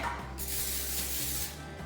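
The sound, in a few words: cooking spray being sprayed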